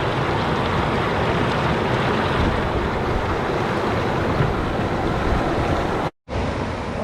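Loud, continuous rush of a Northern California river at flood stage, pouring over a bedrock formation funneled by a big rock; steady broadband roar close to the microphone, briefly cut out near the end.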